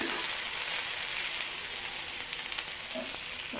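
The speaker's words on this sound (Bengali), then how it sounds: "রাতে একটা ভাজি করতেছি আলু আর বরবটি দিয়ে।" Potato and yardlong bean bhaji frying in a pan gives a steady, close hiss of sizzling oil, with a few faint stirring clicks near the end.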